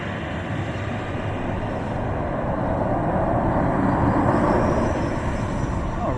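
A Ryanair airliner at Dublin Airport produces a steady, broad jet roar that swells slightly midway, heard from a moderate distance as one continuous wash of engine noise.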